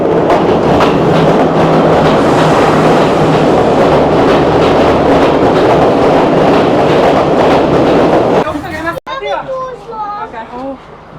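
A train arriving at a platform in Sri Lanka rumbles and clatters loudly past close by for several seconds, then the roar drops away, leaving voices chattering nearby.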